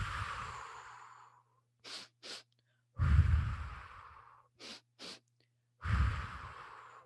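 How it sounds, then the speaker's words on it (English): A guided breathing exercise: two quick, sharp sniffs in, then a long, drawn-out breath out, repeated in a steady cycle up close with no talking. "very quickly breathe in for 2 quick strokes and out 1"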